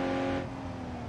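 A Honda CR-V in a BeamNG.drive brake test hums with a loud, steady engine tone that briefly dips, a short continuous drone with no voices.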